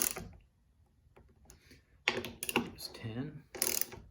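A torque wrench ratchets on the roof rail bolts of a 2019 Honda Passport, making quick close clicking bursts between quiet gaps while someone speaks briefly.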